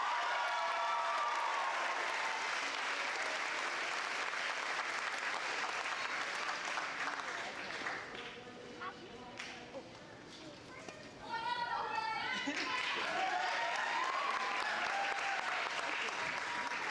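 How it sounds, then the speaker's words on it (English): Big round of applause and cheering from a graduation ceremony crowd at Horizon Science Academy Toledo for the valedictorian, loud and sustained, dipping briefly before swelling again with whoops and voices mixed in. "Big round of applause for Mr."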